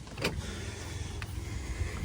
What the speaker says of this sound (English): First, let's unlock the door.